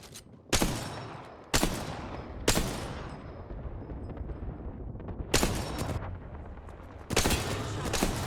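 Gunfire in the Apex Legends video game, several sharp bursts of shots spaced about a second or more apart, each trailing off into a rumbling echo, fairly loud against background game noise.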